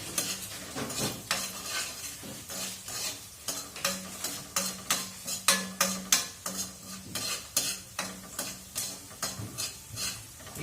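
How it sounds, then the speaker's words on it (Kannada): Reddened fried onions with turmeric being stirred in a pan, heard as a regular series of close spoon scrapes and taps against the metal over a soft sizzle, with no talk. "ಈಗ ಅದನ್ನ ಸ್ವಲ್ಪ ಹೀಗೆ ಮಿಕ್ಸ್ ಮಾಡಬೇಕು."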